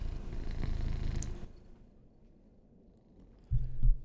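A Norwegian forest cat's close, low purr rumbles for about a second and a half, then fades to a faint murmur before a brief louder rustle or thump near the end.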